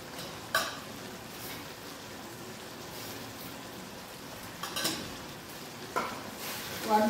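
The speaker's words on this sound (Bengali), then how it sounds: "এবার ভালো করে একটু নাড়াচাড়া করবো।" Taro greens being stirred with salt, turmeric and dried chilli in a pan, a steady soft sizzle and shuffle with a few sharper scrapes of the spoon, close and low in level.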